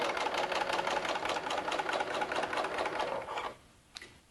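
Sewing machine stitching quilt binding, a rapid steady mechanical clatter of needle strokes close up that stops abruptly near the end, followed by a single faint click.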